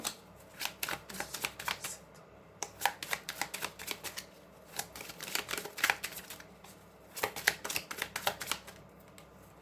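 Tarot deck being shuffled by hand in bursts of crisp riffling card flutters, close and fairly loud, with short pauses between rounds and no talking.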